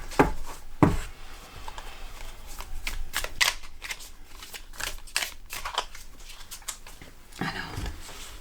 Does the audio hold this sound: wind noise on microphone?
no